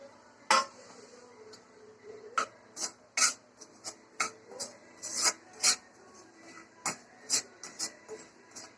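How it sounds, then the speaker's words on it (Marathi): Spoon scraping through sago powder roasting in ghee in a pan, a series of sharp, rasping strokes at an irregular rhythm, close and fairly quiet, with faint low background between scrapes. "ह्याच्यामध्ये ही साबुदाण्याची पावडर करून घेतली ती ह्या तुपामध्ये आपण परतून घ्यायचंय"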